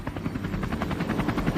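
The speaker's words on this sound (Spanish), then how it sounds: "Eso que oye usted es un helicóptero" A helicopter's rotor thumps in a rapid, steady beat with an engine roar, fairly loud and close overhead above a city street in Mexico, with no talking.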